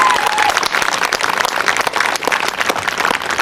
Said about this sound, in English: Clap for yourself, guys.